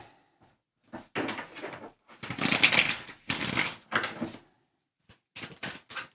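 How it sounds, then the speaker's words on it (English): Bursts of riffling tarot cards, several quick shuffles separated by short pauses, close and fairly loud with no talking. "One more shuffle."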